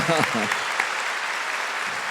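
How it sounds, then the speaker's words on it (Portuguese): A church congregation breaks into clapping just after a brief spoken phrase, then a steady, even wash of applause fills the rest of the roughly two seconds. "So let's have a clap for the I'm the worst of"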